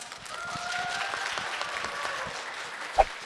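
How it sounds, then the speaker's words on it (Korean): An audience at a Korean speech contest in Toronto claps steadily for about three seconds, a dense, even applause with one sharper clap near the end. "큰 박수로 환영해 주세요"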